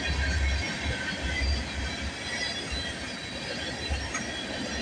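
A CN freight train, B731, rolls steadily past at close range with a continuous heavy rumble and grinding wheel noise on the rails. It is loud and unbroken throughout, with no voices.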